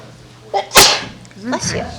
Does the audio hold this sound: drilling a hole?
no